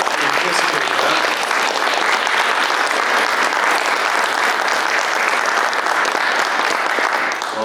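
A large audience applauds after a keynote speech on peace and genocide awareness, a dense, steady roar of clapping that stays loud and even from start to finish with no talk over it.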